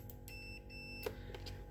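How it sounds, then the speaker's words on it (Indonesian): A multimeter set to buzzer mode beeps as its probes are shorted together for a short-circuit check while servicing a dead handheld walkie-talkie radio, giving brief electronic tones over a steady hum. "posisikan apometer dalam posisi buzzer ya"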